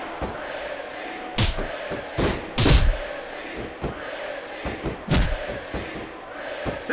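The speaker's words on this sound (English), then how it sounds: "This superstar is all fired up, and so is this capacity crowd" Capacity arena crowd in WWE SmackDown vs Raw 2006 roars steadily throughout a women's submission rematch, broken by repeated sharp thuds and slams of wrestlers hitting the mat; commentators talk faintly underneath.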